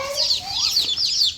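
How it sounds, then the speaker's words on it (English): Ten young pullets cluck and chirp in a coop, their rapid, high, repeated calls close and continuous for a moment with no other sound. "chickens are here. Got 10 pullets, 9 premium pullets."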